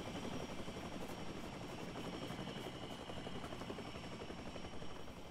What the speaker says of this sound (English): Oh, there's a helicopter right there.